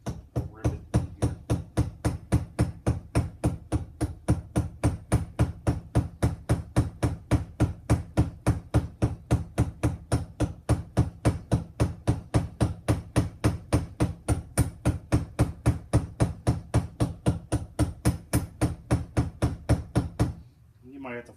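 A metal rivet on a three-way fire starter is peened round with a hammer: a long, steady series of sharp, evenly spaced metallic blows, close and loud, continuing without pause until a final stop.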